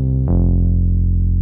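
A single deep, buzzy synth bass note shifts pitch once and holds steady, thick and slightly distorted.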